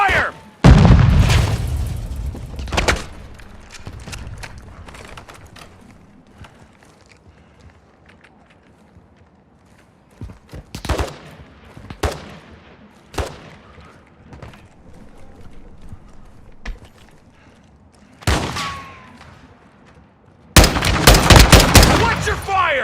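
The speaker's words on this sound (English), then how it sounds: "Taking effective fire!" Shooter video game combat on PS5 with bursts of gunfire and heavy booms, loud sharp blasts at the start and end separated by quieter stretches of scattered shots, with squad voices calling out over the action.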